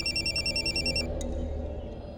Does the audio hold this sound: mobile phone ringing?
yes